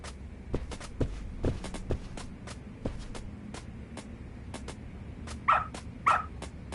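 Dog in the game Lost Judgment giving a pair of sharp yips near the end, after a run of soft clicking footsteps and faint ambient background, with no talk.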